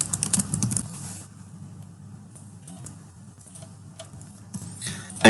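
Soft keystrokes on a computer keyboard as a description is typed, scattered faint taps over a low background hum, with a few louder clicks near the start and end.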